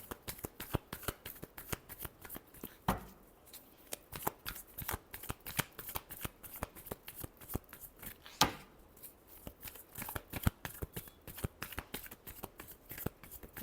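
Tarot cards being shuffled by hand, a steady run of crisp riffling flicks and soft slaps that continues almost without pause, close and fairly quiet, with no talking.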